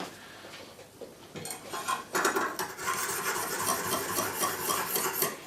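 A knife blade is drawn over a Lansky 600 grit sharpening stone in steady, rasping strokes that grow louder and more continuous, heard up close with no talking.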